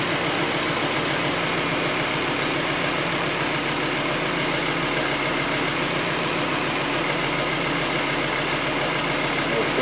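A Volvo S70 2.4T engine, just fitted with a new cylinder head, idles steadily and evenly, a continuous close rumble with a faint vibrating hum and no other sounds or voices.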